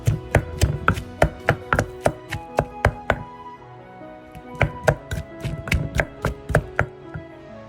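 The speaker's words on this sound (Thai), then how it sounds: "โขลกอันนี้ก่อนกระเทียมกับหอมก่อน" Cooked garlic and red onion pounded in a mortar for a Thai-Lao eggplant chili paste: a steady run of sharp, close, evenly spaced thuds, a brief pause, then another rapid series of strikes.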